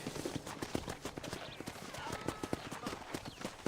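A horse galloping in Red Dead Redemption, quick rhythmic hoofbeats that stay close and fairly quiet with a faint whinny mixed in.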